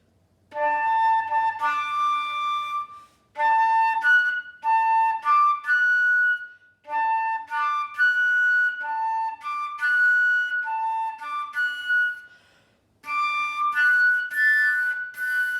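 The slow, solemn bugle call Taps played alone on a flute, clear sustained notes in separate phrases with short pauses.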